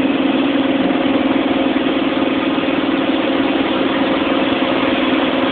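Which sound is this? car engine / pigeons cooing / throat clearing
car engine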